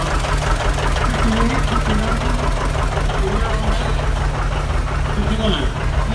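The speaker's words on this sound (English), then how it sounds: "Here's another John Deere. This is Dwayne Besh's 730." A John Deere 730 antique tractor, about a 1959 model, idles at a parade with a steady, loud knocking putter, while people talk close by over the engine.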